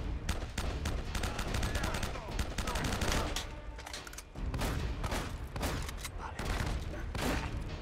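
Rapid bursts of automatic gunfire crackle during a firefight in the PS3 video game Uncharted, in dense repeated volleys with a brief pause midway.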